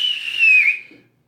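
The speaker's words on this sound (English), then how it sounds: "I blow the whistle again" A whistle is blown once during a tabletop role-playing game, a single shrill, steady tone lasting about a second before it cuts off, heard alone with no voices.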